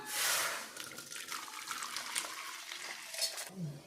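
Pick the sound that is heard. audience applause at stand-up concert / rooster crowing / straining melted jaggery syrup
straining melted jaggery syrup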